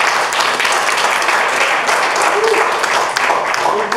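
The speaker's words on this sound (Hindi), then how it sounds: "एक बार जोरदार तालियां उदय जी के लिए।" Audience at a film making book launch clapping loudly for the author, a close, dense burst of applause sustained for several seconds.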